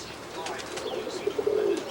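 Roller pigeons outside, soft brief wing flutters and faint cooing near the end, short and close, over light outdoor background.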